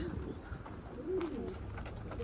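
Tumbler pigeons, breeding adults and youngsters, kept on a balcony coo softly and steadily at close range against a low background hum.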